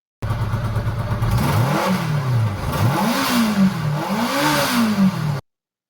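Kawasaki ZZR motorcycle engine revving loudly and close, with several rising and falling throttle blips over a steady running rumble, no talk.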